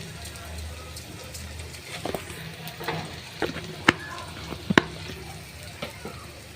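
Chopped onion and whole cumin fry in oil in a kadai for a koi fish and bottle gourd curry, a low sizzle under a person talking, punctuated by a few sharp utensil clinks.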